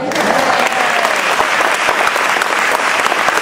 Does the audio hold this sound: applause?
yes